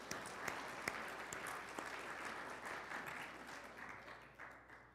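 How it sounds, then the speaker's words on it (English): Church congregation applauding during a Sunday Advent service, a steady wash of many hands clapping at moderate distance that slowly tapers off, with no speech over it. "Yeah, applause."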